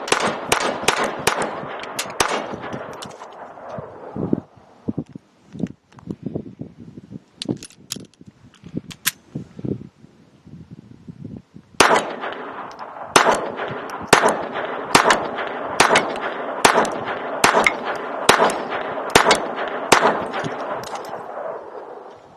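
A Ruger LCP II .22 pistol fires Federal Champion 40 grain lead round nose rounds in sharp, regularly spaced reports. An uneven string of shots is followed by a short lull and then a louder, steady rapid series.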